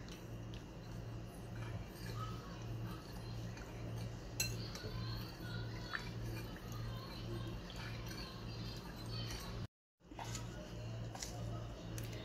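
A spoon stirs green food colouring into agar agar (china grass) halwa mixture, producing soft, steady clinks and scraping against the bowl over a low, pulsing background hum.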